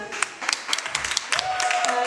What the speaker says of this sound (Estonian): teeme talle suure aplausi